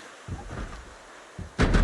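A door is toggled in the Project Zomboid game: a soft thump early on, then a louder bang near the end, short and close against quiet.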